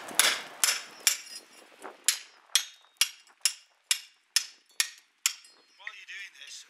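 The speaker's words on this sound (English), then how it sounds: "You can chisel it off like this." A hammer strikes a bolster chisel to chip mortar off bricks, about a dozen sharp, ringing metallic blows at a steady pace, followed by brief scraping at the end.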